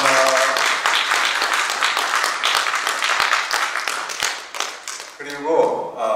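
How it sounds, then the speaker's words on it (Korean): Audience applause of thanks at a church gathering after a two-piano performance, dense steady clapping for about five seconds that thins out, with a voice speaking at the end. "우리 박수로 감사를 드리겠습니다."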